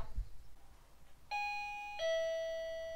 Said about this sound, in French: l'autre partie qui est dans la maison qui fait sonnette.